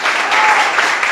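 A church congregation at a Spanish-language pastor-led meeting applauds in a short, loud, even burst of many hands clapping together, with no voices rising above it.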